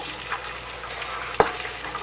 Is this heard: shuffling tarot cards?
no